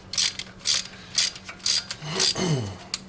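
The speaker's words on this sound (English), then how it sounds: "You want to keep your wrench nice and straight. And you unscrew it." A wrench unscrewing a spark plug from a Toyota Corolla 7AFE engine, giving repeated close ratcheting clicks in short bursts, with a brief metallic creak near the end.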